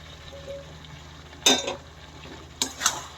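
Lightly fried mince and chana dal being stirred into masala in a pan, two short bursts of scraping and clinking against the metal over a quiet low simmer, close and otherwise calm.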